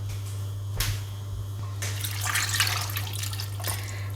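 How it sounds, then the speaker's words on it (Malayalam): Water pours into a cooking pot in a couple of short splashing bursts over a steady low hum, close and moderately loud. "അപ്പോൾ ഈ പാത്രത്തിൽ അതത്ര ഇട്ടിട്ട് അത് വേകാൻ ആവശ്യമുള്ള വെള്ളം കൂടി ഒഴിച്ചു കൊടുക്കാം."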